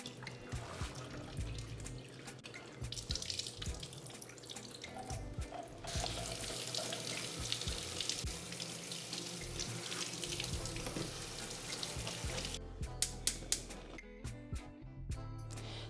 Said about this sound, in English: I'm just gonna pour them in here because I really like to drain the beans.